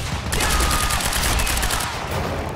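Rapid turret gunfire in the video game Quantum Break, a loud sustained burst of automatic shots filling the whole stretch with dense, continuous crackle.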